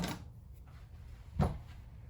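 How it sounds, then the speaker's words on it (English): A door is bumped inside a Jayco Eagle HT 294CKBS caravan, a single dull knock near the middle after a faint rustle, close and fairly soft against quiet room tone, with no talking. "sorry, I bumped the door."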